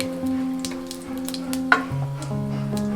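Whole garam masala sizzles and fries in a pan while it is stirred, a steady soft crackle with light scraping taps and a low background hum.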